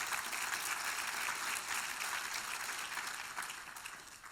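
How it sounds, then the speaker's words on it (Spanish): A church congregation applauding during a sermon, a steady wash of many hands clapping at once, sustained for several seconds and slowly easing off at the end. "Dale un aplauso a Jesús"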